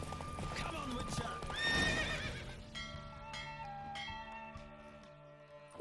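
Horse hooves clip-clop in The Witcher 3 alongside a whinny, with game speech and bell-like tones over a moderate, mid-distance gait.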